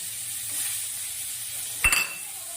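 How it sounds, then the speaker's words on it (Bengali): Spice paste fries with sugar, cashews and raisins for katla fish kalia, a continuous close hiss broken by a single metallic utensil clink near the end. "এখন মশলাটা ভালো করে কষিয়ে নেব আবারও।"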